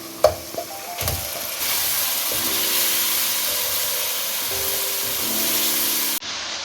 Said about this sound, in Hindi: चिकन को इस मसाले में 2 मिनट तक अच्छे तरीके से भून लें